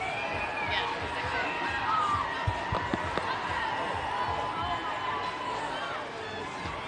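A crowd cheers at a Mardi Gras parade in downtown Mobile on Fat Tuesday, a steady roar of outdoor voices with a few sharp knocks, while someone talks close by.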